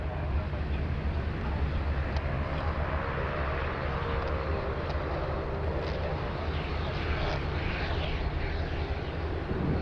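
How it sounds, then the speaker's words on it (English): An Aircalin Airbus A330neo airliner at Sydney Airport produces a steady, broad jet roar that holds at an even loudness for the whole stretch, fairly distant and without distinct voices. "We got a nice view of the Air Calin 330 Neo"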